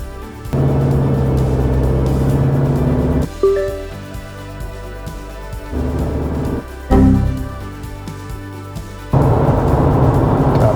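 An Isuzu D-Max with an upgraded, retuned automatic transmission drives up a hill at 40% throttle, its engine a steady, loud drone with shifting tonal bands and brief changes in pitch and level, with no talking.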